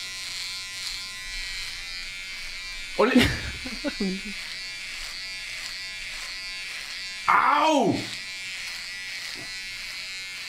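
Electric razor buzzing steadily while shaving hair on a person's head, a constant close hum running through the clip with brief louder bursts where a voice exclaims.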